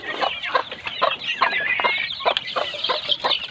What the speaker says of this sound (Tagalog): Yan yung mga inahin natin.